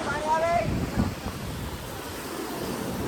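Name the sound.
sea waves at Gomti Ghat, Dwarka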